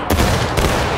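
A loud, close volley of musket fire erupts at a Civil War reenactment battle, several shots cracking almost together, then a second burst about half a second later.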